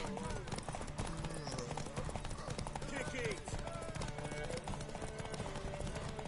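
Horse hooves clip-clop in The Witcher video game amid a busy, dense mix of game sound, with voices talking over it throughout.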